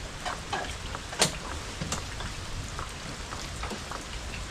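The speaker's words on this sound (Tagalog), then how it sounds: "maulang umaga na naman" Steady rain falls on a wet morning, a dense, even patter of drops with a few sharper nearby taps and clinks standing out, no voices.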